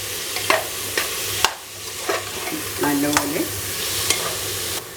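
Chopped ingredients for tomato rice being sautéed in a pan, a soft steady sizzle broken by repeated scraping spoon strokes, close by, with a single brief spoken word.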